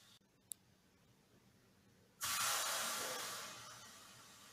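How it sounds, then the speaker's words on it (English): Water poured into a hot pan on a gas stove bursts into a sudden loud hiss of boiling and steam, which then slowly fades, after a faint click and near-silence. "You can see water is boiling and evaporating with bubbles."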